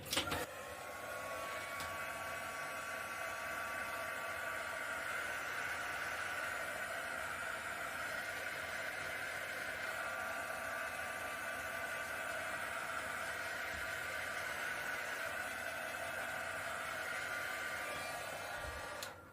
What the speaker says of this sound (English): Right, hit that with a heat gun.